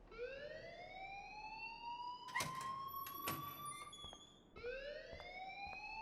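A school fire alarm in the video game Life is Strange, a loud rising electronic whoop that sweeps upward and repeats, with sharp clanging bell-like hits layered in between.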